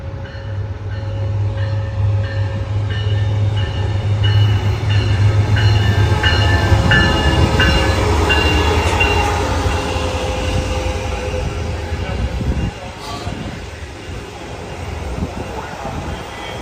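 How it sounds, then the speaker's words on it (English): An Amtrak Surfliner train with an X Games–wrapped coach car rumbles past at Fullerton station, loud and close, with a steady low roar and rhythmic wheel clatter that eases off toward the end. "The next one looks like it's a surfliner"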